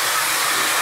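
A hair dryer blows steadily on hair treated with serum, a loud, continuous close-up whoosh with no voices.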